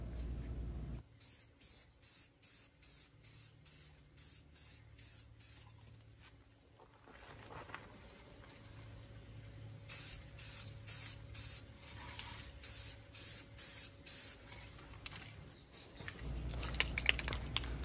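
Repeated short bursts of spray paint hissing from a can onto a metal gate, each pass a few seconds apart with brief pauses, close and steady.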